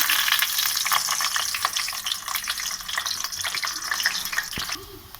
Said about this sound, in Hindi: ये कबाब हमारे फ्राई हो गए। आपको पता है फ्रोज़न बहुत जल्दी फ्राई हो जाते हैं।